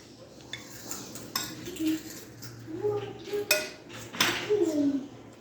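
Serving spoon scooping rice onto a plate beside moong masoor dal, giving close clinks and scrapes of metal on dishware with a faint voice murmuring at moments.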